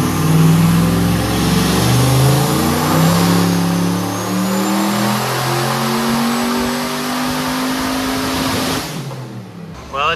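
Turbocharged junkyard Corvette engine revving hard on a dyno, a loud sustained roar with rising pitch sweeps and a faint turbo whine, cutting off abruptly near the end.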